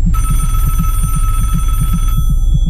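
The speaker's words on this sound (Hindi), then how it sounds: "और फोन आ रहा है" Old-style telephone bell rings in the Family Curse horror game, loud rapid trills pulsing in a steady rhythm before cutting off near the end, with no one talking.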